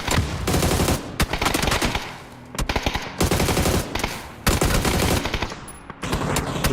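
Loud, close bursts of automatic gunfire from a squad match in the PUBG video game, several long rattling volleys separated by brief pauses, with no voices.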